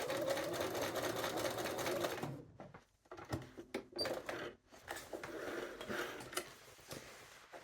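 Sewing machine stitching in the ditch along a trouser seam to secure the facing, with a steady run at first, then choppy stop-start bursts and mechanical clicks, close and fairly quiet.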